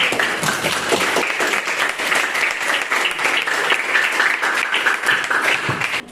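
Dense, steady applause from a classroom of students fills the whole stretch at close range, with many hands clapping together before fading slightly at the very end.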